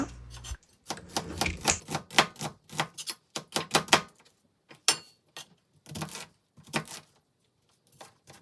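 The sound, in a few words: chopping kimchi, onion and meat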